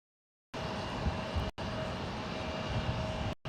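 Jet airliner, an American 777-200ER, taking off from runway 30 right at San Jose airport: a steady, broad engine roar heard from a distance, with a faint tonal whine and brief dropouts in the sound.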